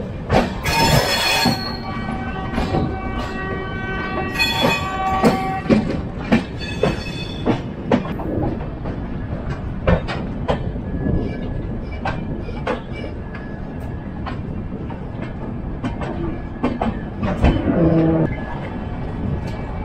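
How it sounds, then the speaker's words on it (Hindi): A New Delhi–New Jalpaiguri Superfast train passes alongside, heard from a neighbouring train near Chhapra Junction: steady loud rumble, rhythmic clickety-clack of wheels over rail joints and intermittent metallic wheel squeals throughout, with no talk. "और ये बगल से क्रॉस हो रही है new Delhi new Jalpaiguri superfast."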